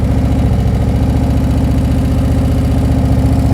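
A motorcycle engine idles in first gear with the clutch pulled in, a loud, close, rapidly pulsing low thrum that holds steady throughout.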